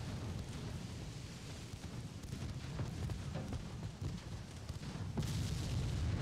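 A warship shell strike and flash fire in the naval game Ultimate Admiral: Dreadnoughts, heard as rolling low booms and rumbling fire with a louder burst toward the end.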